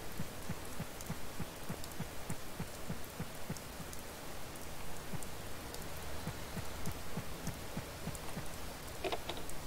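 Steady rain falls in the farming game Harvest Moon: Save the Homeland, a continuous hiss of drops on ground with a faint low rhythmic throb running underneath throughout.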